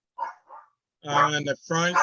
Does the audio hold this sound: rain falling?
no